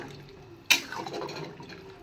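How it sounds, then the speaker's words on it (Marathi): Hot water poured into masale bhat rice in a pot, a sudden splash followed by a short bubbling gurgle, close and fairly quiet. "आता गरम पाणी टाकणार आहे मी त्यामध्ये"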